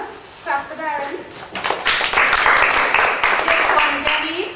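Clapping for a child named Darren called up to stand at the front with his bag, a scattered group applause rising after a moment and continuing steadily under children's and adults' chatter.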